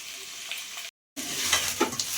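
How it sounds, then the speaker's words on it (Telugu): Chicken for garlic chicken fries in a pan, a loud steady sizzle with scraping stirs; the sound drops out briefly, then returns as louder crackling. "ఇంకొద్దిగా వేగాలి చికెన్, కొద్దిగా కొంచెం కలర్ రావాలండి, అప్పుడు దాకా కొద్దిగా వేపుకుందాం"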